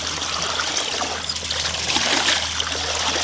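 Clothes being washed by hand in a tub of water, with steady trickling and splashing of water close by, continuous throughout, over a constant low electrical hum.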